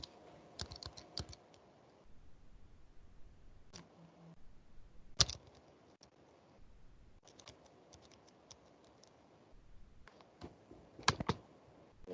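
Computer keyboard being typed on during an online lecture session, with sparse irregular bursts of quiet clicks and occasional louder key taps separated by short pauses, no talk.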